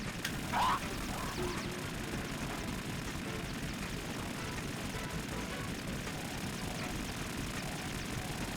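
Harrier jet in the video game Metal Gear Solid 2 Substance: a steady, dense roar of jet engine noise fills the scene at moderate level, continuous and unbroken, with faint game effects layered over it.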